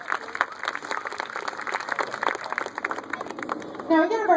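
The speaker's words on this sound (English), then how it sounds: "how about another big round of applause to welcome back our 2 stars to their show" An aquarium show audience claps together in a sustained round of applause that holds steady for several seconds, crowd noise mixed in, before it fades near the end as a voice begins.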